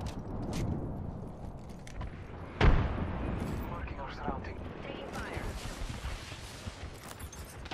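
Frag grenade explosion in Apex Legends, one sharp loud blast followed by a rumbling tail, set amid ongoing game noise with a person talking throughout.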